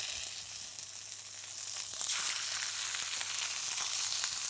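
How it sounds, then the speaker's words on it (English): Sardines fry skin side down in a very hot oiled pan, giving a steady broadband sizzle that grows louder and denser after about two seconds, with faint crackles throughout and no voices. "we're essentially cooking the sardines on the skin side"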